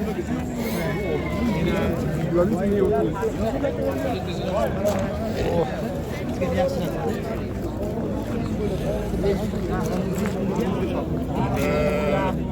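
Sheep bleating repeatedly amid a busy livestock market crowd where pregnant ewes are being sold, with several people talking loudly nearby throughout.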